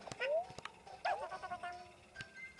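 Poochie the cute little dog in a Mario video game gives a few short, high yips and whimpering barks amid other game sound effects, fairly close and moderately loud, with no talk.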